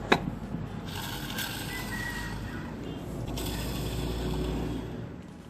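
Dirty transmission component from a Daihatsu Xenia Xi 1.3 being turned by hand, grinding and clicking unevenly in a steady rough mechanical rattle, close and fairly loud throughout.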